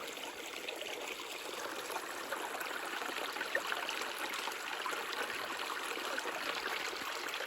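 A small creek reduced to a tiny stream trickles steadily through a rural property, a soft continuous burbling wash heard close and alone.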